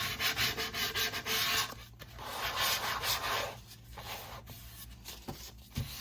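Steady rhythmic rasping of clogged sandpaper rubbed back and forth on a mandala base, close and fairly loud, with brief pauses between strokes.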